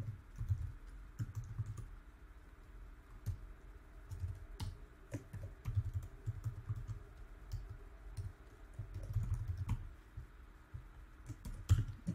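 Quiet, irregular clicking of a computer keyboard as a name is typed into an account sign-up form, with keystrokes falling in short bursts over a low background hum.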